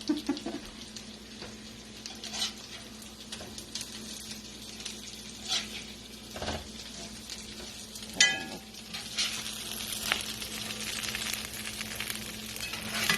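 Soup bean patties fry in bacon grease with a continuous close sizzle and crackle, broken by occasional spatula scrapes and a louder clatter midway as they are turned, the frying growing busier afterward; no talk.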